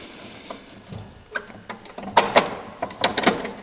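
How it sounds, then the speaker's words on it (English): A cotter pin is pulled from the brake rod of a Cub tractor, giving scattered sharp metallic clicks and ticks. They grow more frequent toward the end against a quiet background. "I'm going to pull this cotter pin out so that we can get this brake rod here out."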